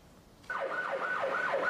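An ambulance siren wails as it responds through a traffic-jammed underpass, starting suddenly and cycling in a rising-and-falling yelp pattern at moderate loudness with faint road noise beneath.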